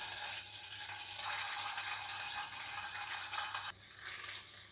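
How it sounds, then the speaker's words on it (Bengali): Paneer pieces fry in hot refined oil over a lowered flame, giving a soft, steady, hissing sizzle that swells slightly, then eases near the end. "এবারে ফ্লেমটা কমিয়ে পনিরের টুকরোগুলো দিয়ে ভেজে নেব।"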